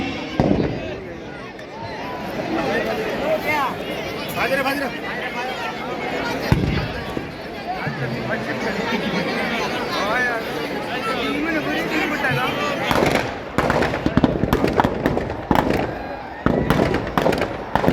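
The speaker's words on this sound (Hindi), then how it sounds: "देखिए मैदान में नगर परिषद के द्वारा सुंदर आतिशबाजी का नजारा भी।" Fireworks crackle and pop continuously with sharp bursts at a Dussehra fair in Kekri, India, set against a noisy outdoor crowd chattering in the background.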